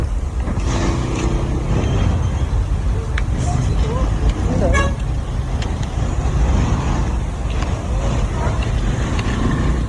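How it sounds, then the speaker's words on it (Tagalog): Street traffic at a neighborhood corner: a steady rumble of passing cars, trucks and motorbikes, with a few horn-like tones and a voice talking over it. "Sa kanto namin, traffic sa kanto."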